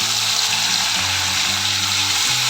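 Spice paste sizzles in hot oil with hing tempering while jackfruit seeds cook, a steady loud crackle with low stirring scrapes throughout, no voices.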